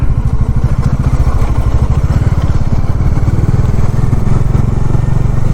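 A motorcycle engine runs steadily at a highway toll gate after leaving Delhi. The pulsing exhaust is close and loud, and it holds an even rhythm throughout.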